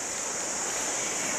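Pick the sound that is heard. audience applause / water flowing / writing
water flowing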